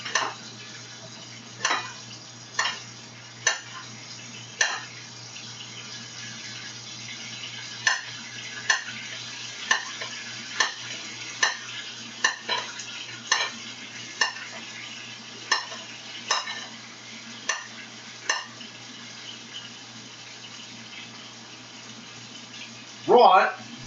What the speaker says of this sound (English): do you hear that taco meat a sizzling?